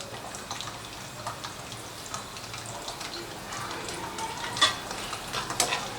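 Julienned ginger and a green chili fry in hot ghee, a faint, soft crackling sizzle with occasional small pops, no one speaking.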